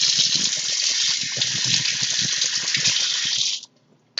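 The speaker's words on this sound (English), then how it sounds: "I'm going to first start by running it under some warm water" Warm tap water runs over a paint brush at a sink, a loud steady gushing stream close by that cuts off abruptly near the end.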